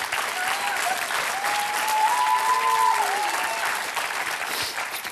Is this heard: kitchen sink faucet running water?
no